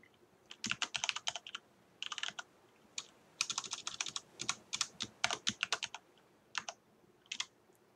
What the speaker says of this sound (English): I'm just gonna do a little typing here